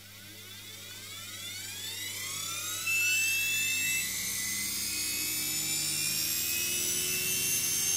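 DC series-wound motor spinning up on a test rig for regenerative braking, a steady whine with rising harmonic tones that climb in pitch over several seconds, then holds at a loud, even level.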